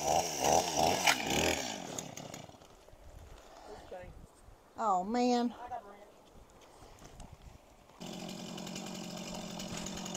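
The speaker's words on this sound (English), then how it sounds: "starting the chainsaw, so we're gonna have a little noise here" A chainsaw starts and runs while clearing tons of debris from a clogged low-water bridge with rusted-out culverts: quick revving bursts first, a quieter stretch with a short spoken remark, then loud steady running.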